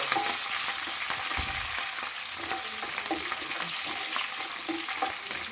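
Sliced green chillies frying in a pan while making an onion-stalk chicken fry: a steady, close, continuous sizzle and crackle with occasional stirring scrapes, no talk over it.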